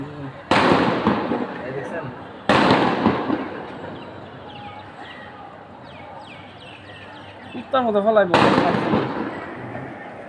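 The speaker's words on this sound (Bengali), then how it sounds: "দেখছেন পিছাইতেছে আর গুলি করতেছে" Several sharp, loud gunshot bangs from police firing at irregular intervals during street unrest at Farmgate, Dhaka, with excited talking between them and a bird chirping briefly in the background.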